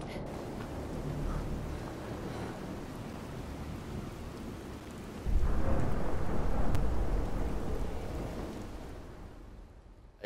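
Thunder in a video game storm, a long loud rolling rumble over steady heavy rain that swells sharply midway and slowly fades, with no talk.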